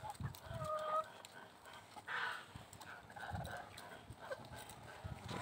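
Chickens and geese cluck and call in a farmyard. Their scattered, fairly faint calls sound against an outdoor background with occasional knocking noises.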